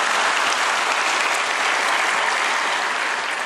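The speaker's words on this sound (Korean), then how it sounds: "한번 박수해 주시고 감사합니다." A church congregation at an autumn revival service applauds in a dense, loud, unbroken wash of clapping that holds evenly for several seconds.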